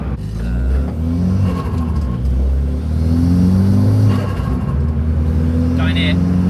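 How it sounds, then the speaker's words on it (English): Turbocharged engine of a Renault Megane RS track car, a steady mid-pitched drone with rising revs and turbo whoosh. A faint chirp comes near the end, and people talk over the engine throughout. "The turbo, can we just? It sounds amazing."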